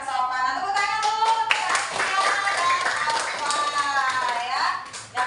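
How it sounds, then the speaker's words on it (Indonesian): A primary school class in a Pancasila civics lesson claps hands together in a quick rhythmic pattern while children's voices chant and call out over the clapping. "Tepuk tangan dulu."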